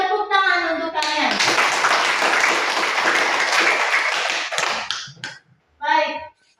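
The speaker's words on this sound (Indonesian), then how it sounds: "Tepuk tangan untuk kalian." Children in a primary-school class clap together in a dense, loud burst lasting about four seconds, with a teacher's voice just before and after.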